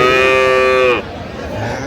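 A cow at a dairy cattle market in Aftabganj, Dinajpur, lets out one loud, close, drawn-out moo that stops abruptly. Market murmur and faint voices continue afterward.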